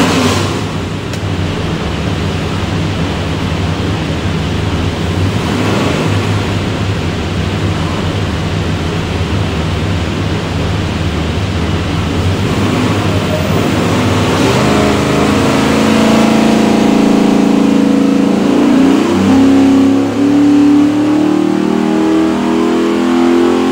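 A 429ci Chevrolet LS3 V8 in a '67 Chevelle runs on a dyno, holding a steady loud drone before climbing in a long, rising pull toward the end.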